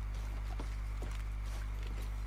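Horse hooves clip-clop at a steady walking pace in Red Dead Redemption 2, with crisp close hoofbeats over a constant low hum and no talking.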